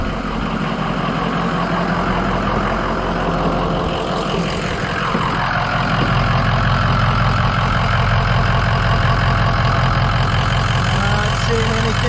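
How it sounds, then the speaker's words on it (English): A Ford F-250 Powerstroke diesel truck engine idles steadily after a fuel filter change, a constant low rumble that holds near and even throughout, with a slight shift in tone partway through. "And she comes to life. We're going to let it idle for a minute."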